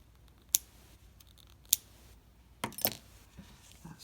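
Scissors snip a crochet yarn end close by, a couple of sharp isolated clicks followed by a quick cluster of small metallic snips, with no talking.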